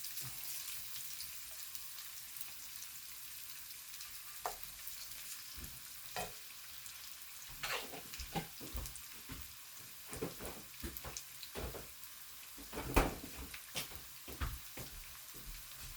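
Garlic fries in a pan with a faint, steady sizzle broken by occasional clicks and scrapes of a utensil, heard close and alone.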